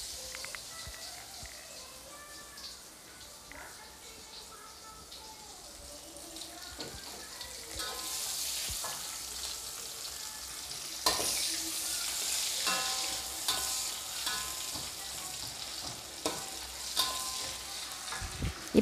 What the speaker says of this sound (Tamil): நம்ம வந்து நெத்திலியை போட்டு லைட்டாக பொரிச்சுக்கலாம்